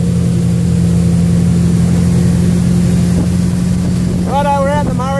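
A motorboat on the Murray River on its first run of the season, its engine droning loud and steady up close, with voices coming in near the end.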